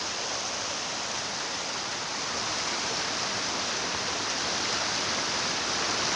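Bangon Falls waterfall roars as a steady, loud, broadband rush of falling water, continuous and unbroken, with no voices over it.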